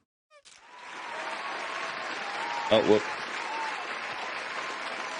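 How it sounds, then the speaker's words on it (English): Applause sound effect added to a game scene, a dense crowd-clapping texture that swells in and holds steadily, with a person's brief exclamation over it. "I added the applause and confetti back in for the things."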